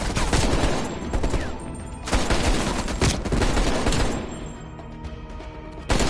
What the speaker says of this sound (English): Take out that heavy MG!